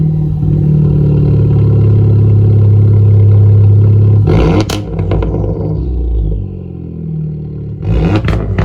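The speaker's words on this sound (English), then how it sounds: "I'm gonna start it with the muffler off." A Honda Civic Type R engine running with the muffler off, a loud deep droning rumble that drops away after a few seconds, followed by clattering and knocking sounds.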